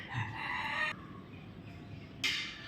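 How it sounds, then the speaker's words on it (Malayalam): A rooster crows once at a home kitchen garden, a clear mid-distance call that fades out, followed by a short burst of noise. "എൻ്റെ വീഡിയോയിലൊക്കെ എന്താണ് കോഴിൻ്റെ ശബ്ദം ഉണ്ടല്ലോ അല്ലേ,"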